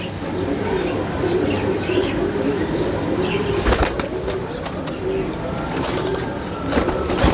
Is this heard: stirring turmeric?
no